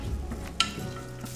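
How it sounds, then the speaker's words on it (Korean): Abalone innards stir-fried in a pot for abalone rice, a soft stirring scrape with a gentle sizzle and one brief utensil clink against the pot, with no voices. "그 다음에 이제 내장을 넣고 충분히 볶을 거거든요."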